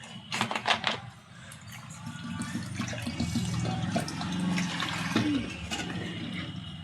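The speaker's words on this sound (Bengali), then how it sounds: "আগে সুজিটাকে জল পাল্টে পাল্টে ধুতে হবে। জল দিয়ে ভালো করে ধুয়ে নেব।" Semolina is rinsed in water in a bowl, with sloshing and swirling water sounds, a few handling knocks at the start, then continuous close splashing and pouring.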